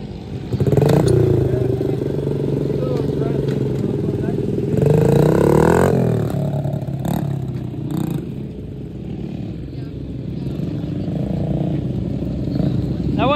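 An off-road motorcycle at a cross-country race revs hard and climbs in pitch during a wheelie attempt, loud and close, with scattered voices and outdoor clatter around it.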